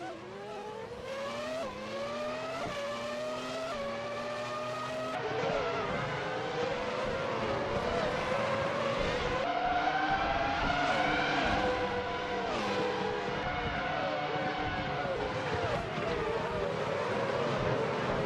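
Race cars in a racing video game, engines revving and shifting through gears in repeated rising whines, a tightly packed field droning loudly and continuously, with no speech.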